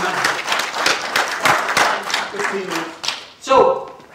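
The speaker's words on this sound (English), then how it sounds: "Oh, give him a round of applause, well done." An audience claps at a teaching talk on wild teaching, with sharp, uneven hand claps that rise and fall in bursts, voices mingled in, and a louder flourish near the end.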